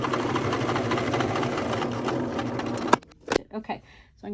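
A sewing machine runs in one steady, fast stitching burst for about three seconds while sewing a fabric bowl cozy, then stops, followed by a few light handling clicks and a voice speaking.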